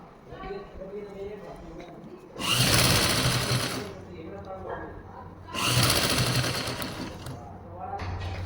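A sewing machine stitches lace onto Afghani trousers in two loud bursts of rapid whirring, each lasting about one and a half seconds, with someone talking in the quieter stretches between them.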